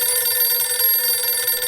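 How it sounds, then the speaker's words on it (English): A telephone rings loudly and continuously in a bright, steady electronic trill that pulses with an even rhythm and has no voices over it. "The phone rang."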